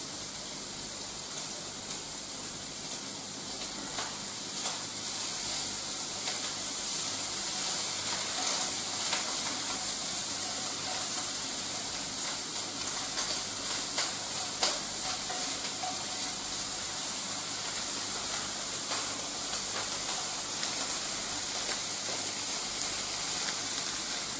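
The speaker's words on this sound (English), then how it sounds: "so I'm just going to go and stir the bacon" Bacon sizzles steadily in a pan as it is stirred, a continuous close hiss of fat broken by occasional light scrapes and clicks of the utensil, with no talking.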